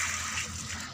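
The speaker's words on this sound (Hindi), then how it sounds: "पानी देने का टाइम हो रहा है, और भरो पानी भरो।" Water gushes in a steady, close stream as it is poured onto a potted plant at home, a continuous splashing hiss lasting a second.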